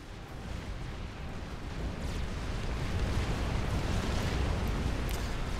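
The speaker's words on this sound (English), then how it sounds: "The artillery, you can see, damages the units as they're under construction, so they can't actually finish." Supreme Commander: Forged Alliance artillery barrage pounding units under construction, a dense continuous rumble of explosions with no clear gaps, building slightly louder toward the end.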